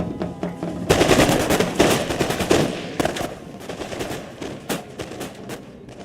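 Infantry volley fire in Total War: Empire, with English colonial line troops discharging muskets in a ragged rolling fusillade: sharp cracks arrive in clustered bursts, loud and close, then thin out into scattered shots.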